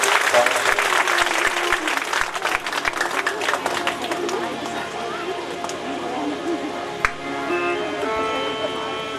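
An audience at a Hindu religious discourse claps together in a dense burst of applause that fades over several seconds, with a voice speaking over it.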